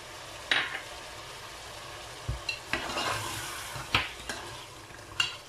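A spoon stirs whisked yogurt into a simmering mutton achar gosht curry, producing a soft bubbling sizzle punctuated by several distinct metallic scrapes and clinks against the pot, close and without any talking.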